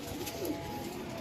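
A Lakha pigeon gives a short, soft, low coo close by, heard alone over a faint background.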